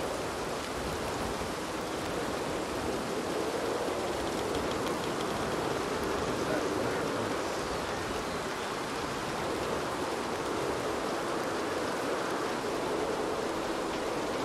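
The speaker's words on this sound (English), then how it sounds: "It's raining, Uncle." Steady rain in the Red Dead Redemption II video game, a constant hiss of falling water on surfaces, even and unbroken for the whole stretch.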